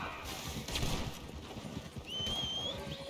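Horse sounds from the video game Red Dead Redemption 2: a steady patter of hooves runs under background noise, and a brief rising whinny-like tone comes near the end.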